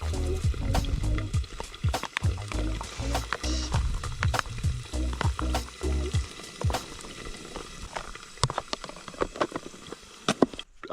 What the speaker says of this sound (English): we got our squid and chips cooking, baby